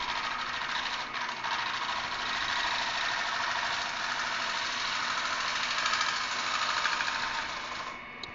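A lathe turns an olive wood natural-edge bowl while a gouge makes a last cut on the thin wall, a steady loud hiss and whir that continues unbroken before ending.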